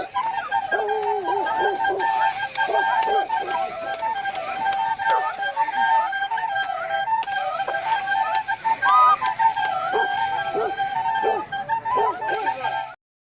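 Whistles in a Star Wars fan clip, bright warbling tones repeating throughout over a dense busy mix with voices talking, fairly loud and continuous.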